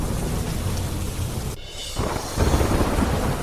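Heavy rain pours steadily over Ahmedabad during a monsoon downpour, a dense close hiss with rumbling thunder underneath, briefly dipping before the storm swells again.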